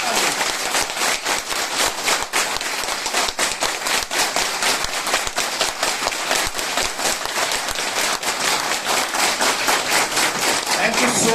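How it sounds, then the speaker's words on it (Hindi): An audience applauds the course participants at a Hindi-language seminar, a dense, steady round of many hands clapping that stays close and loud throughout. "एक बार जोरदार तालियां।"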